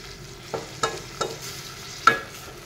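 Small fish dropped into a curry simmering in a pot: four soft, separate knocks and splashes over a faint, low bubbling, quiet and close, with no voices.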